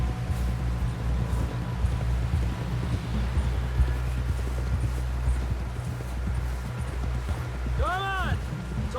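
Steady horse hooves clip-clopping at a trot throughout in Red Dead Redemption 2, with people talking over them and a brief whinny-like call near the end.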